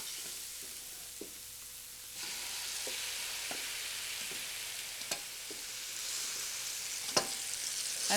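Tomato added to softened ingredients in a frying pan sizzles steadily and close up, the sizzle growing louder partway through, with a few sharp clicks of stirring and no one talking.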